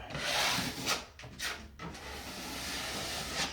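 A plasterer's blade scrapes drywall plaster off an edge of wallboard in a steady, close rasping stroke, with a few short pauses and rough, gritty scratching throughout.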